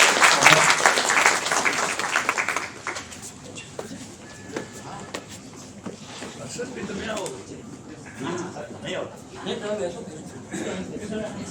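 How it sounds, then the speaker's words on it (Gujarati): Audience applause welcoming guests to the stage at a Gujarati literary festival's writing-workshop inauguration, a loud burst of clapping that fades after a few seconds while a voice talks on through the remainder. "તાળીઓના ગગડાટથી સૌને વધાવીએ આપણે."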